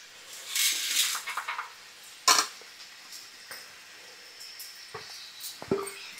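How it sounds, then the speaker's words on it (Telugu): Chana dal, urad dal, mustard seeds, cumin, crushed garlic, dried red chilies and curry leaves drop into hot oil for tempering, giving short bursts of hissing sizzle mixed with light clinks of utensils; no one speaks. "పోపులు ఏంటి? శనగపప్పు, మినపప్పు, ఆవాలు, జీలకర్ర, వెల్లుల్లి, ఎండుమిర్చి, కరివేపాకు, ఇవన్నీ ఈ నూనెలో వేసేసుకుందాం."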